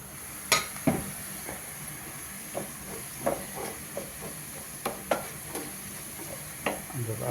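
Browned onions and spice masala fry in a pan for a Kerala pork roast, a quiet steady hiss punctuated by irregular scraping clicks of a stirring spoon, close by.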